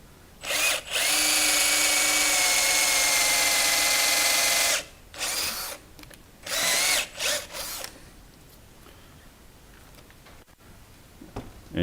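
A power drill bores into the inside of a wooden two-piece hollow form, a loud steady whine for about four seconds, then several shorter bursts of drilling before it falls quiet.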